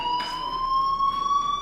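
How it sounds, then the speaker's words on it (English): A fire alarm rings in the video game Life is Strange, a steady electronic tone holding at even loudness, faintly pulsing, with no voices over it. "Hey, do you hear that fire alarm?"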